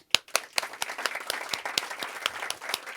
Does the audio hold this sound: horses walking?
no